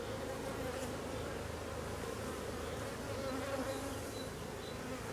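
Dense, steady buzzing of honeybees on a hive frame from a colony gone drone-laying with only males, a continuous close hum without pause or voices.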